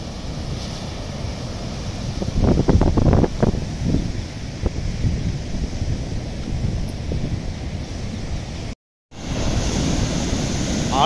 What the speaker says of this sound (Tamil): அலை நல்லா வேற லெவலில் அடிக்குதுங்க காலையிலே இவ்வளோ அலை அடிக்குது